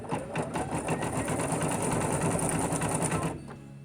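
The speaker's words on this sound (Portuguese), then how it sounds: "Vamos continuar aqui com a costura." An embroidery machine stitches a design with a fast, steady mechanical chatter for several seconds, then stops; no talking over it.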